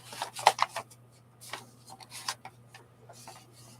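A paper book slides snugly into a handmade envelope, giving a few short, close rustling scrapes and rubs in quick bursts over a steady low hum.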